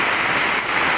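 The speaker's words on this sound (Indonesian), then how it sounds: "Ini airnya, guys, hujan deras sekali" Heavy rain pours down on Sidokaton village in Tanggamus during a downpour that led to flooding, a dense, steady hiss of water filling the whole moment with no break and no voices.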